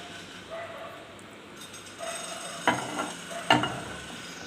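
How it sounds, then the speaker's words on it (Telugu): Lava cake batter with milk stirred in a bowl, with soft scraping strokes and two sharper knocks of the spoon against the side. A dog yips faintly in the background. "బాగా మిక్స్ చేయాలి. ఇది ఎంత బాగా మిక్స్ చేస్తే అంత బాగా ఫ్లఫీగా వస్తుంది."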